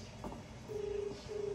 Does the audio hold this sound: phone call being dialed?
yes